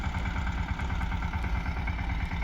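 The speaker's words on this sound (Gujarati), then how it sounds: "અહીંયા આ બાજુ ચાલે છે ટ્રેક્ટર" A tractor engine runs steadily on a farm, a loud, close, low rumbling idle with a rapid, even chugging pulse and metallic clatter, heard alone without voices.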